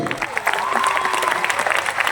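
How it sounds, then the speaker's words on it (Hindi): Applause from an auditorium audience in Kolkata, brief continuous clapping with a faint cheering edge, moderately loud and without speech on top. "सबके लिए जबरदस्त तालियां होना चाहिए"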